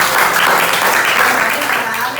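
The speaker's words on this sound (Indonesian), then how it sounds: "Tepuk tangan." Classroom of students clapping together in a short, loud burst of applause that fills the room, with voices mixed in.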